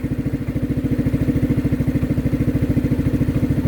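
A 2015 Yamaha NMAX 155 fitted with an original Satria FU exhaust idles with a steady, deep, rapid thumping pulse, close and even throughout.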